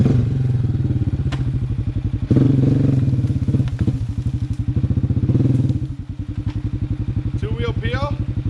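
A Honda Rincon 680 ATV on Gorilla Silverback tires revs hard in mud, its engine pulsing loud and close with steady rapid firing, while people talk over it.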